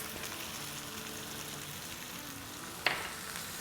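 Okra frying on a high flame after lemon juice is added, a soft, steady sizzle at low level with one sharp utensil clink near the end.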